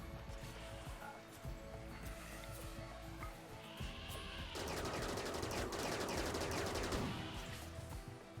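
Video game battle with bursts of automatic gunfire, the shooting building into a dense, sustained loud volley midway before easing off, over constant game noise.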